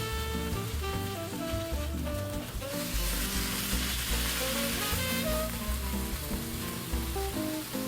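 Frozen hamburger meat fries in a pan for Hamburger Helper, a continuous dense sizzle and crackle with scraping strokes of a utensil against the pan bottom, steady and close, with no talking.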